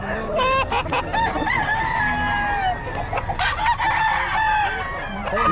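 Chickens at a busy market in Bocaue cluck while a rooster crows, several loud close calls overlapping in bursts. Faint talk sits in the background.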